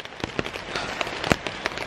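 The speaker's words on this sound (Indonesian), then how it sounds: "aman kita dari hujan" Heavy rain drums on a tent from inside, a dense patter with sharper individual drop hits scattered throughout, steady and close, with no voices.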